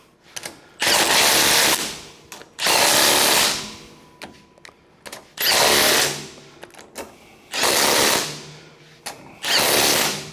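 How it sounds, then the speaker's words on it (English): Impact wrench with a 3/4 inch socket tightening fasteners on the rubber cutting edge of a MUSKOX snowblower, five loud buzzing bursts of about a second each with pauses between, close up. "I'm going to go through with the 3/4 inch wrench and tighten the fasteners down that are just squeezing on rubber"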